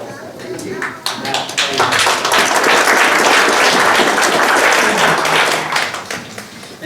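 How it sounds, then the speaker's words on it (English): Sustained audience applause at a Minnesota Asian Pacific Caucus meeting honoring elected officials, loud and dense throughout with a slight swell in the middle, voices faintly mixed in. "So let's get a loud applause for our elected officials."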